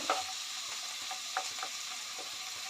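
Spices with a spoonful of turmeric sizzle steadily in a pan for fish head ghonto, a close, even frying hiss broken by a few soft stirring scrapes.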